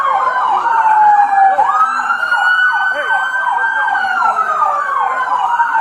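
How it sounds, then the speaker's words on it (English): Several police sirens wail and yelp loudly at once, overlapping in rising and falling sweeps close by. "Kill your sirens."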